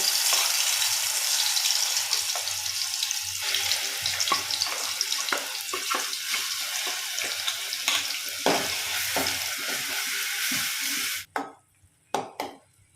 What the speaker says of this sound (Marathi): तेल गरम झालं आहे तर यामध्ये आपण ते वाटण टाकून व्यवस्थित फ्राय करून घेऊयात